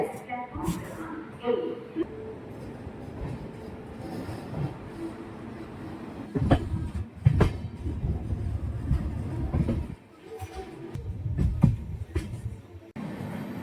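A night passenger train on the Okha to Veraval run pulls away and rolls along, a low rumbling clatter with intermittent louder thumps and rattles, with a voice talking over it.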